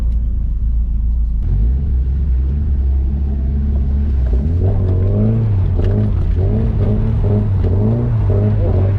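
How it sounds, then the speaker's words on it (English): Loud engine rumble from four cars circling at a drift day doing donuts, with revving that swells and dips in a repeating pattern, continuous throughout. "there's 4 cars, and they're just practicing donuts going around"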